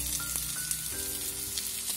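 Lamb chops sizzle in a frying pan, a continuous close crackling hiss with small pops over two seconds and no talk.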